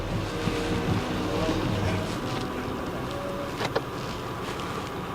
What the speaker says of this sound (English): Every time you turn the power steering or the steering wheel, you can hear an hissing sound.